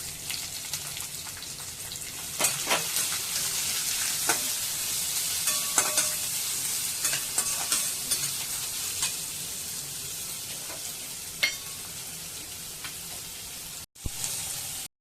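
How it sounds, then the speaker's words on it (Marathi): Chopped onion frying in hot oil with cumin, mustard seeds, garlic and curry leaves for phodnicha bhaat, a dense steady sizzle with occasional crackles and utensil clicks, close, cutting off abruptly near the end. "आता ह्याच्यामध्ये कांदा टाकायचा."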